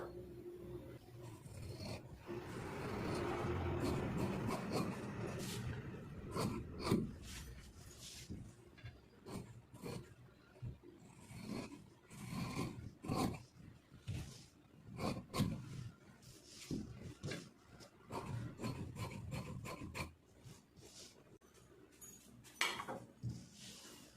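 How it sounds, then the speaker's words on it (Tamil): Scissors cut through blouse fabric on a work surface, a long run of soft rubbing and snipping scrapes with irregular short crunches, close and quiet, with no talk. "இப்போ பேக் பார்ட் வந்து கட் பண்ணி எடுத்துக்கலாம்."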